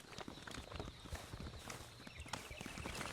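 Horse hooves clip-clop in a steady walking rhythm on a hard surface somewhere in Davao, set against busy outdoor background noise, with no talk over them.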